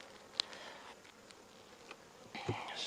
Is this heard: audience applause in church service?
no